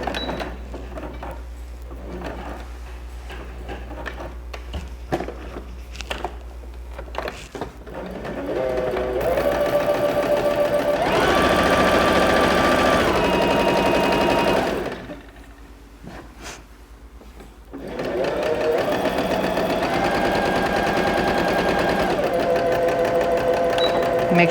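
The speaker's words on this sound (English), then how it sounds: "I'm just gonna sew this top section" A sewing machine stitches the top section of a handmade garment bag, running in long steady bursts with short pauses and a stop midway, close and loud, with a soft voice at times under the motor.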